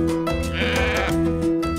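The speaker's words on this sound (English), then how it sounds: "His flock of red Maasai sheep has just been awarded second best flock nationwide." Red Maasai sheep from a flock in Transmara, southern Kenya, bleat in a close, loud, wavering call that fills the moment without any talking.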